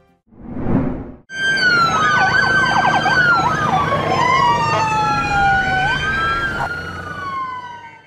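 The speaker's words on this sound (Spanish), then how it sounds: "el sonido de sirenas y la alerta" Emergency vehicle sirens wail and yelp during an earthquake alert in Mexico, loud rising and falling tones layered over street noise after a brief burst of sound, continuous to the end.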